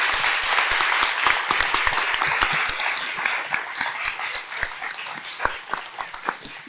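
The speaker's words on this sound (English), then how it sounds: "Let's give them a big round of applause." An audience at a city candidate forum claps for the candidates, dense applause at first that thins into scattered individual claps toward the end.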